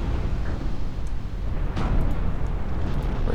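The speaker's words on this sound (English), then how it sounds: "We're hitting that battleship hard." Shell impacts thud against a battleship in a 1923-era naval warfare game, with deep rumbling booms rolling continuously and a few sharper splashes or hits cutting through, loud and close.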